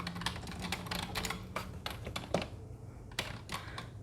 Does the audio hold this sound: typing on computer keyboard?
yes